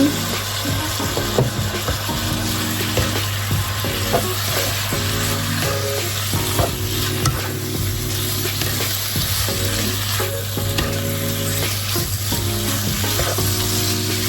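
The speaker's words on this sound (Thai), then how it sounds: "ผัดเข้าไปเรื่อย ๆ นะคะ" Pork with black pepper stir-frying in a pan, a steady loud sizzle with repeated scraping strokes of the spatula throughout, no talking.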